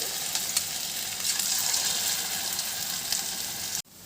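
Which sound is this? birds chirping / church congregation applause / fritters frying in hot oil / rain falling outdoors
fritters frying in hot oil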